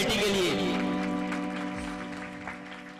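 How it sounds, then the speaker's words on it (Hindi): Applause from a crowd at a Hindu devotional music festival (Mata jagran), clapping loud and steady then slowly tapering over a sustained musical drone in the background. "एक बार जोरदार ताली बजाओ कमेटी के लिए।"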